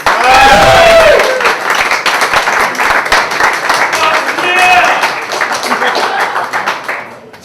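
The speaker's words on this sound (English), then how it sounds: "to give a big round of applause for Eric Torres." Loud audience applause and clapping at a stand-up comedy show, a dense crowd of hands sustained steadily for several seconds with a few voices and cheers mixed in before it slowly tapers off.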